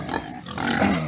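A solid red pig on a farm grunts and snuffles up close, a continuous rough grunting that runs without a break.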